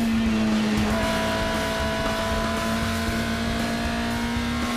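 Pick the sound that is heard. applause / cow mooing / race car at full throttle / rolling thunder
race car at full throttle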